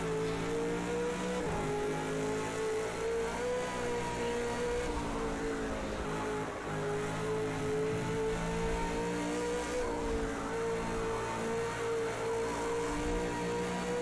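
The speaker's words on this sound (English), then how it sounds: "the tyres really straining and struggling" A race car laps Bathurst in Project CARS 2, its tyres straining as the engine holds a loud, sustained, tonal drone with slight pitch shifts. Faint squealing sits underneath throughout the fourteen seconds, with no talk.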